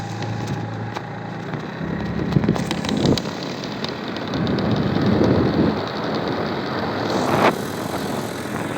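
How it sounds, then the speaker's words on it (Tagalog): Steady rain hisses across the whole stretch, with a low rumble building underneath and a few sharper bursts, outdoors and fairly loud. "Ulan na."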